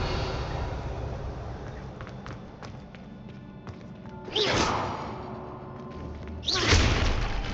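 Two magical whooshing bursts from the Revelio spell being cast in Hogwarts Legacy, each a swelling swish with a thud, spaced a couple of seconds apart over soft game ambience.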